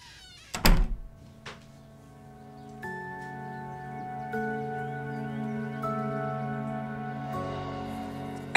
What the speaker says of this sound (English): Did you want me to shut the door?